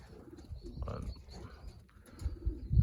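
Racing pigeons from an old-bird loft coo in soft, low, rolling bursts that swell louder toward the end, close by with no talking.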